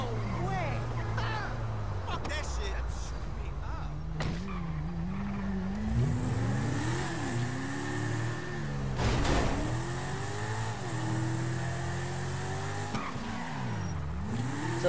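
Car driving in GTA Online during a bank heist raid on a Korean gang: a steady engine drone with revving pitch sweeps and occasional skids, close and continuous, under people talking.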